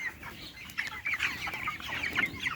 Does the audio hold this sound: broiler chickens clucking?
yes